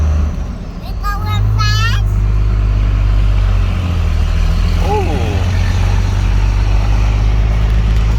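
A second-generation Cummins diesel pickup cruising in four-wheel drive, a steady low engine drone and road rumble held throughout, with a short whistling squeal early on and someone speaking briefly over the running engine.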